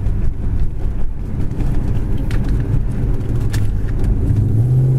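A red 1970 Chevy Chevelle SS cruising at about 45 mph, with a steady low engine rumble and road noise from inside the car, continuous and fairly loud, with no talking.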